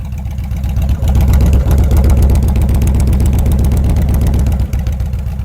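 A Kawasaki VN 2000 motorcycle with its 2.1-litre petrol engine idles nearby, a loud, steady low throb with an even pulsing rhythm that holds through the whole stretch, with a brief dip or two.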